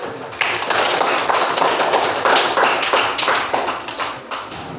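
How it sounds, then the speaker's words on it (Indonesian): Children clapping their hands in a classroom, a burst of fairly loud, uneven rhythmic claps close by that continues for a few seconds, with no talking over it. "Tepuk tangan dulu."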